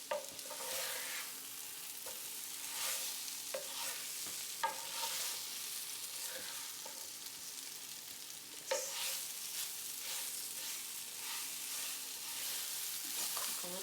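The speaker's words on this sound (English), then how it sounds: "Cook a little bit here just to get some of the flour taste out of there." Beef and flour simmering in beef broth in a pot, with a steady soft sizzle and bubbling and occasional stirring scrapes; no one talks.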